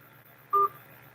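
One short telephone keypad tone sounds as a menu option is pressed on an automated phone line, a clean brief beep over faint line hiss.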